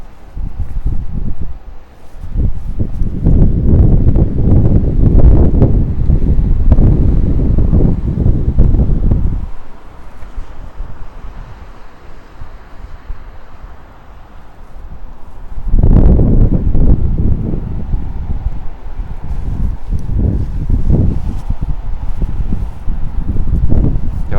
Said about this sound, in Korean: 바람이 그렇게 세게 불지 않아서 여기 바람 막 세게 불면 위험하, 위험하거든요